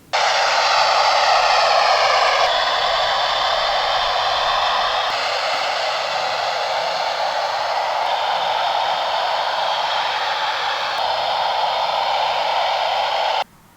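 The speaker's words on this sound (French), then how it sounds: "c'est juste un avion qui passe dans le ciel" A steady, loud airplane drone passing overhead holds evenly throughout, a broad roaring engine wash with a slight tonal shimmer, heard at an abbey on the Île de Ré, no voices present.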